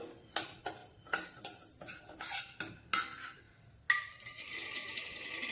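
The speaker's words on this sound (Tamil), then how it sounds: "சேர்த்துட்டு நல்லா ரவையை வந்து வறுத்துக்கணும்" Semolina roasting in ghee in a pan, stirred with a metal spoon: a series of close, distinct scraping clinks against the pan in an uneven rhythm, followed by a steadier sizzling hiss.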